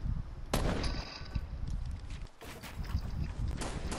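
Gunfire in a multiplayer shooter video game, with broadband shot bursts and an explosive crack standing out among continuous in-game noise and movement sounds, fairly loud throughout.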